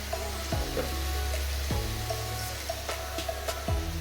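Vegetables and spices with turmeric sautéing in a pan, a steady close sizzle broken by several sharp scrapes and knocks of a spoon stirring the mixture, with no talking.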